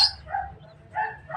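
A dog gives two short, yelping barks about half a second apart, close by and fairly loud against a low background rumble.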